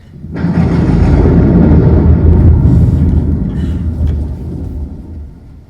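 A thunder sound effect booms through a theatre performance, a loud rolling rumble that starts abruptly, holds steady for several seconds and slowly fades away.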